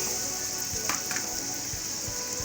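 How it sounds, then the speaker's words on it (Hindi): Two medium chopped onions softening in half a cup of hot oil for Irani chicken karahi, a steady close sizzle and crackle with faint stirring pops. "इसके बाद प्याज हमने काट के रखा हुआ है वो शामिल कर लेते हैं।"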